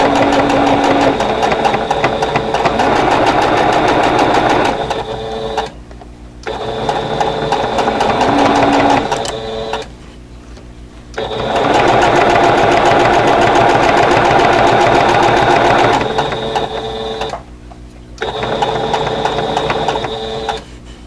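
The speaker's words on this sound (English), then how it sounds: "So let's go to the sewing machine." Domestic sewing machine stitching pieces of a quilt block, loud rapid mechanical whirring in long bursts separated by brief pauses, close up with no talk.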